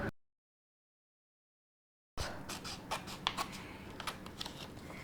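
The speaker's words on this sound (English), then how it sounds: "we're going to use the scissors and cut on this line" Scissors cutting paper along a line, a run of short crisp snips and rustles after a brief silence, close and fairly quiet with no talk.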